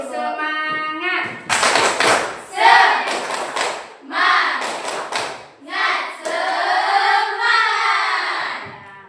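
A class of students performs a rhythmic spirit clap, with bursts of patterned hand claps alternating with loud chanting voices in a lively, close-up group.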